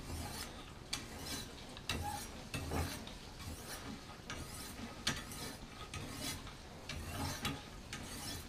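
A butter knife blade is drawn across a polishing stone in repeated rasping strokes, about ten of them in an uneven rhythm. The scraping is close and quiet and there is no speech.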